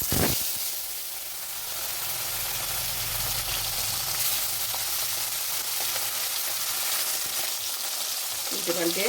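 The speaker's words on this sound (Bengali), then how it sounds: "এখন মাছগুলো একটা একটা করে ভেজে নিচ্ছি" Sarpunti fish sizzle in hot oil in a wok, a loud, continuous crackling hiss that swells as the pieces go in and holds steady, with a brief clatter at the very end.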